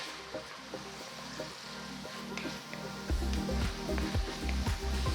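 Onions and chopped tomatoes sautéing in a pan with curry leaves for a South Indian kadappa side dish, a steady low sizzle with a rhythmic stirring pulse that grows louder partway through, close and without voices.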